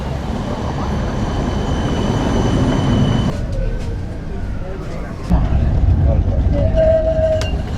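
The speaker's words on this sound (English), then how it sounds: "we're just waiting for a tram to turn up now, the 15E, to take us to Belém" Lisbon tram 15E running through the streets to Belém, a continuous rumbling rattle of wheels and carriage with brief squeals and clunks, people talking over it.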